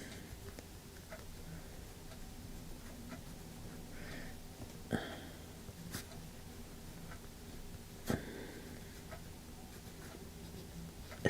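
Faint, soft scratching of a Polychromos colored pencil shading on paper, quiet rhythmic strokes with a few sharper taps and clicks scattered through.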